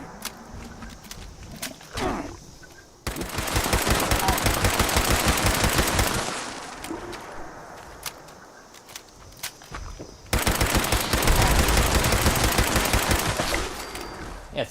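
Rapid bursts of automatic fire from a Berserker explosive pipe rifle in Fallout 76, with two loud sustained volleys and quieter footsteps and game ambience between them.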